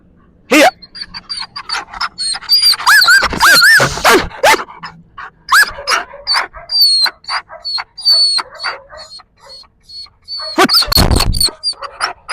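A German Shepherd in toy-motivated obedience training gives a string of sharp barks and yelps, loud and close, scattered irregularly across the stretch, with pauses between bursts and no talking.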